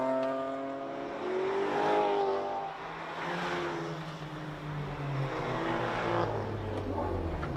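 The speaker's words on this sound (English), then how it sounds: "So this is a bit of a mixture of anything and everything. Cars stream through." Rally cars on an Adelaide rally tour streaming past one after another, engines revving and rising then fading as each passes, a mixed procession of vehicles heard from the roadside.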